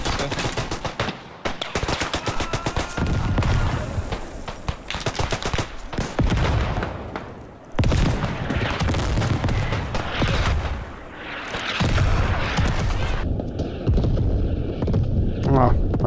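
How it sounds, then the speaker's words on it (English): Artillery shells and dense gunfire roar through the World War I shooter Beyond The Wire on the Poelcappelle map, loud booms and rapid rifle and machine-gun bursts almost continuous and close, with a player talking at times. "Artillery on my head."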